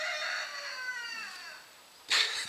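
A rooster crows one long, drawn-out call that fades away, followed by a couple of sharp clucks close by.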